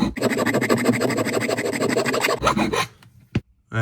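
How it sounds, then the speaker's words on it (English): A hand file rasps along the freshly cut edges of metal clamped in a vise, with steady rapid back-and-forth scraping strokes, close and loud, then a brief pause and a couple of short final scrapes. "with a few seconds of filing, after you've cut some metal, when you're going to get the loose edges off"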